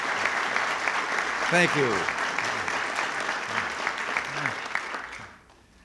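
An audience applauds the president at a meeting with CEOs of national organizations, with steady clapping filling the room while his voice speaks briefly over it, before the applause fades out.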